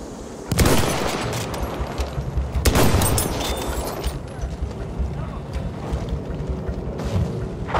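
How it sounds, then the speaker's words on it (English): Gunfire and explosions in Battlefield 1 during an objective battle, with two heavy booming blasts followed by a continuous rattle of distant machine-gun and rifle fire, busy and loud throughout. "Enemy machine gun over there!"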